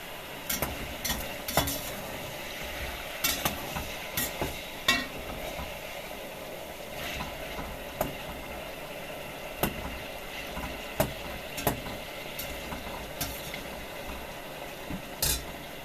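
Meat and onions fry together in a pot with a steady, moderately loud sizzle, broken by frequent sharp clinks and scrapes of stirring throughout.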